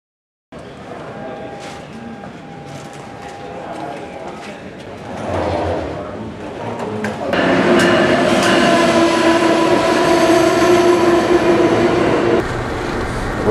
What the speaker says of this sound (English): Riding the train to Washington every morning and every evening